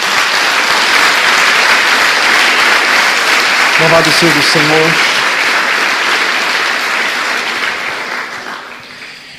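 A church congregation applauds in sustained, dense clapping that fills the room and tapers off toward the end, while a voice speaks briefly over it.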